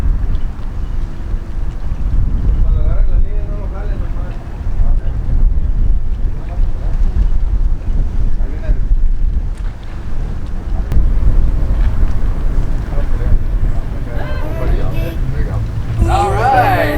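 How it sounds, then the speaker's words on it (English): A sailboat is brought into a boatyard to be hauled out, with strong wind buffeting the microphone and water noise throughout; voices talk intermittently over the rumble. "Here is where they're gonna pull the boat out at."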